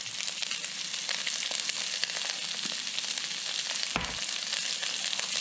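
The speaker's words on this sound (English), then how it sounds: "I've got the oil heated in the brazier, so I'm going to go ahead and add the onions." Onions go into hot oil in a brazier and fry with a loud, dense sizzle that crackles and spits continuously. One sharp clatter breaks in near the end.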